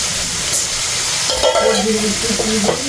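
Canned ackee tipped into a frying pan and stirred while cooking Jamaican ackee and saltfish: a steady sizzle with scraping stir strokes, close and fairly loud, with no voices.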